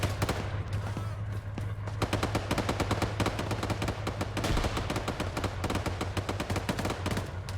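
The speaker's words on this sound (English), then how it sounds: "Oh, hey, a gunshot." Rapid automatic gunfire from a military infantry video game crackles in dense, continuous bursts, loud and close, with no talk over it.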